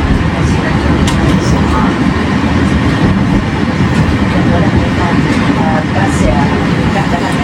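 Loud, steady rumble and rail noise from inside the Argo Semeru express train as it approaches Sentolo station on the Jakarta–Yogyakarta line, a continuous dense roar with faint clicks. A voice talks over it.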